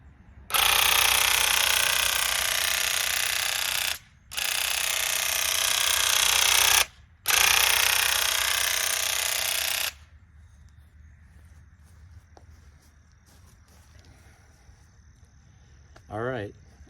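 A Bauer 20V airless paint sprayer hisses loudly in three long, steady bursts of about three to four seconds each, separated by brief pauses, followed by quiet background and a faint voice near the end.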